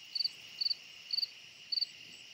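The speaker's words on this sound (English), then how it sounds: "That cricket is so loud." A cricket chirps loudly right beside the microphone outdoors at night, four evenly spaced bursts of rapid triple pulses against a quiet background.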